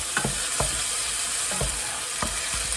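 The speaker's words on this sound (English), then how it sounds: "Get that all stirred round and incorporated in there." Garlic puree is stirred into a brisket dish over low to medium heat, giving a constant sizzle with about five soft, evenly spaced scrapes and knocks of the spoon against the pan.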